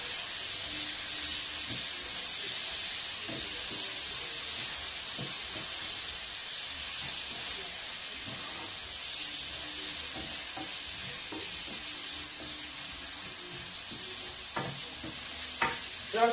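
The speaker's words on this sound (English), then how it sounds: "Just fry the onions a little bit, then be adding my tomatoes." Onions fry in a pan with a soft continuous sizzle and hiss, broken by scattered light clinks and scrapes of stirring that grow a little busier toward the end.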